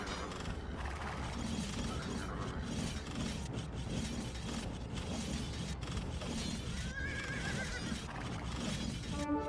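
Horses in the game Age of Empires 2 whinny and neigh repeatedly while cavalry attacks a castle, mixed with clattering hooves, shattering impacts and mechanical battle sounds in a busy, continuous game soundscape.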